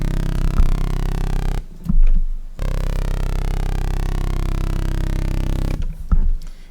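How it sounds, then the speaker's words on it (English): A sustained synth tone in Serum with flanger applied, a phase-shifting sweeping comb texture over a droning note, loud and continuous, broken by two short gaps. "Flanger is basically messing with the phase of the sound."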